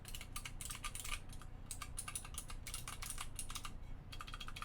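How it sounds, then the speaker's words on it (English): Rapid keystrokes on a Klippe mechanical keyboard with Phoenix switches, clones of Aristotle switches, make a dense, close run of sharp clacky taps with brief pauses between bursts. "These are Aristotle clone switches, which are called Phoenix switches"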